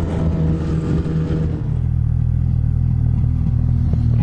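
A loud, close snowmobile engine misfiring, running unevenly with a rough, sputtering idle, steady rumble throughout with no voices.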